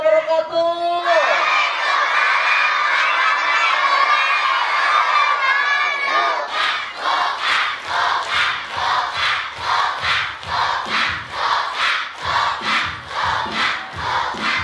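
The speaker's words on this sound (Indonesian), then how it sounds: "Mana teriakan untuk Spider-Man?" Children and a crowd at an orphan charity event shout and cheer for a performer dressed as Spider-Man, a loud sustained roar of voices that turns into rhythmic chanting and clapping.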